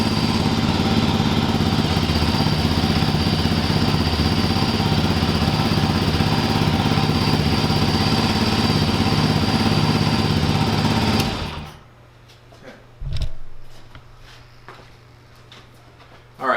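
A Genuine G400C motorcycle engine idles steadily and loud after an oil change for about eleven seconds, then shuts off, leaving quiet with a brief low thump and light clicks.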